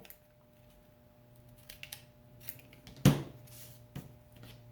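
A single crisp snip of scissors trimming a paper craft piece for a witch-and-pumpkin project, fairly loud and close, set against a quiet room with a few faint handling taps before and after.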